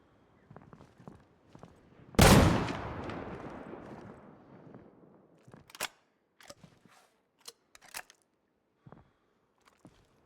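A sawed-off double-barrel shotgun fires a single loud, close blast in the game Deadside, with a long rumbling decay, followed by scattered faint clicks and light handling sounds.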